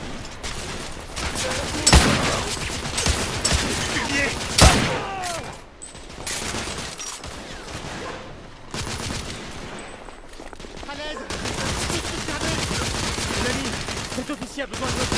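Gunfire in the video game The Order: 1886, dense bursts of rapid shots and loud single cracks that keep going through a firefight, with sharp impacts and brief pauses; voices speak intermittently under the shooting.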